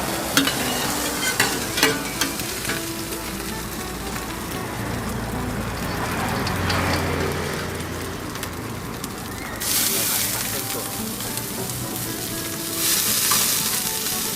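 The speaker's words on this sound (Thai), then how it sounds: "ให้เราผัดเส้นสด" Fresh noodles stir-fried for old-style pad thai at a food stall crackle in a loud, steady sizzle, with surges of hissing and scraping as the pan is worked, close up.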